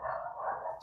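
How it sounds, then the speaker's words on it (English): A dog barks outside, one drawn-out muffled bark heard at a distance, as if through a wall or window. "Sorry if you hear the barking, I'm going to close"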